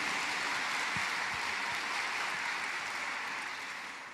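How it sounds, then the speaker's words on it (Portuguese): A church congregation applauds after a sermon line, a dense, sustained clatter of many hands that holds steady before tapering slightly at the end. "Pode aplaudir, é de aliança."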